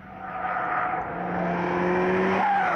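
A VW Golf R Variant accelerating on the Ascari racetrack, a steady engine drone rising in pitch through a gear with a smooth whir, heard up close with no talking.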